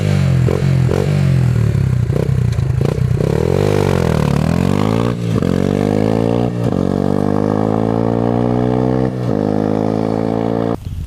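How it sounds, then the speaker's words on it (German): A Beta RR 125 air-cooled motorcycle with an oval titanium X-Racing exhaust, run without its dB-killer, revs loudly and repeatedly, its sharp blips climbing and falling in pitch with rattly clatter between bursts. "Und zwar ist das der X-Racing Auspuff in Titanium-Ausführung, oval."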